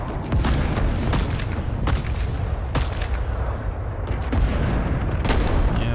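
Gunfire in the Vietnam-era shooter Rising Storm 2 on the Da Lat map, where an M1D sniper rifle fires among a run of sharp, booming shots at irregular intervals over a constant rumbling battle din.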